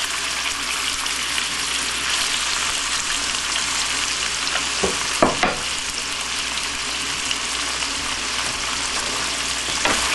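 Leftover pork, chicken and onion for fried rice sizzle steadily in a hot pot, a continuous close hiss with a few sharper crackles and stirring clatters around the midpoint.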